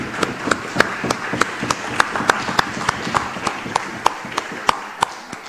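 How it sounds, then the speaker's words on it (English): Sharp, widely spaced claps ring out in a parliament chamber, a handful of people slapping hands or desks in an uneven rhythm over a low murmur of the room. "I believe that the Minister of Health deserves a round of applause"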